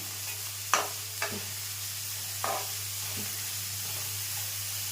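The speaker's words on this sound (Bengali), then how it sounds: "জিরে রসুন পেঁয়াজ ভালো করে এটা ভেজে নেব প্রথমে" Cumin, garlic and onion fry in a pan with a continuous close sizzle and hiss, punctuated by a few sharp spatula scrapes and stirs over a low steady hum.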